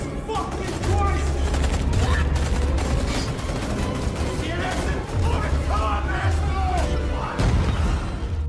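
Rapid gunfire from soldiers shooting while retreating through a dark cave in a war-versus-dinosaurs film, dense bursts of shots and booms layered over loud continuous rumble and music for the whole stretch.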